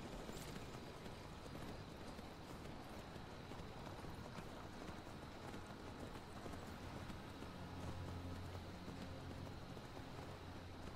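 Horse hooves from riding Shadowmere in the Skyrim video game, a faint, steady run of clip-clop footfalls under constant low background noise, continuing evenly throughout.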